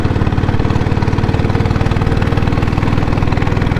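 Diesel Bullet motorcycle engine running during a test drive: a loud, close, steady thumping beat with a fast even pulse and rough low rumble, continuous throughout without voices.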